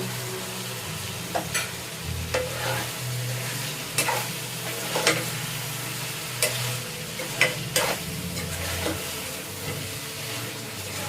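Chicken curry gravy sizzles steadily in a pan, with scattered scraping clicks from a spoon stirring it, close and continuous without talk.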